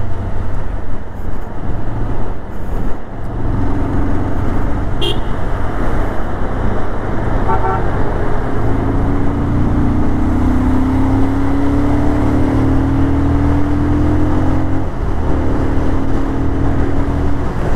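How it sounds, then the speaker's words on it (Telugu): Heavy road traffic in an industrial area near Pune, recorded during a motorbike ride: a loud, constant roar of passing vehicles with engine drone and a rising motor whine, no clear horns standing out. "దానివల్ల ట్రాఫిక్ చాలా ఎక్కువ."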